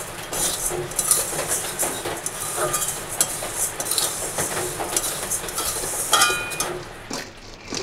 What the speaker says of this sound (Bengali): তাই এই যে চিনি দিয়ে দিচ্ছি